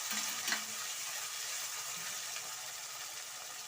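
Tomatoes frying in a pan for uppit (upma): a steady soft sizzle with a few stirring scrapes near the start.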